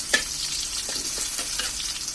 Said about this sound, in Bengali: এখন আমি রসুন কুচি আর পেঁয়াজ কুচিগুলো দিয়ে দিচ্ছি